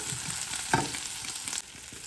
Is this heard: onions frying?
yes